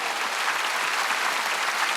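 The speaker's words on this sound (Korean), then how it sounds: "세게 좀 쳐봐. 박수 좀." Church congregation applauding during a Sunday worship service, a steady, dense wash of clapping that fills the whole moment without a break and with no voices over it.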